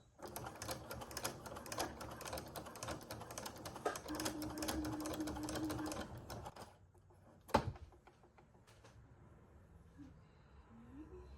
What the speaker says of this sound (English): And then they were ready to get sewed on to the fabric.